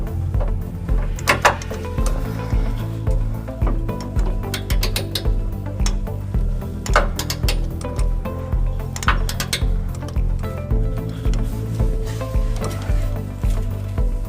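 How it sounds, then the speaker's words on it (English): Socket wrench with a 5-inch extension and 19 mm socket torquing trailer hitch frame bolts on a 2006 Toyota Tacoma, repeated ratcheting clicks and metallic clinks in a steady rhythm, close by. "I'm going to use a 5-inch extension and a 19 millimeter socket"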